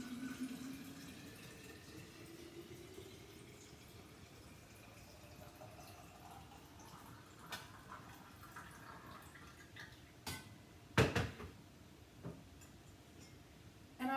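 Vegetable stock pours quietly through a funnel in a thin stream, its pitch rising slowly as the container fills, followed by a few soft clinks and knocks near the end.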